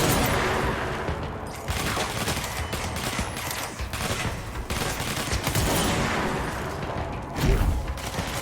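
Rapid, loud gunfire from a weapon in the video game Control, sustained bursts of shots rattling almost continuously with only slight dips, close and dominant with no talking over it.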